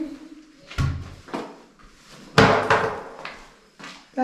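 Old bathroom toilet lid being lifted open, heard as a few sharp knocks and clatters of hard material up close, one loud bang in the middle, with faint voices murmuring in the background.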